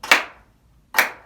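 Two sharp claps from children at a library storytime, spaced almost a second apart, each loud and close with a quick fade and silence between.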